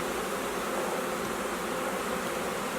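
Honeybees from a newly installed package buzz in a steady, dense drone that fills the whole stretch, close and continuous with no speech.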